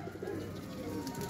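Soft pigeon coos murmur close by, low and throaty, over a faint background hum.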